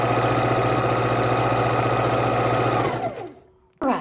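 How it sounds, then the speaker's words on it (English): A sewing machine stitches a king-size quilt border, running with a steady loud mechanical hum and rapid needle rhythm, then spinning down to a stop near the end, followed by a brief clunk. "Sewing our entire border of this stage together."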